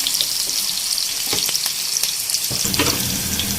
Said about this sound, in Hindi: हम इसको यहाँ जब तक ही फ्राई करते रहेंगे जब तक इसका कच्चापन ख़त्म नहीं हो जाता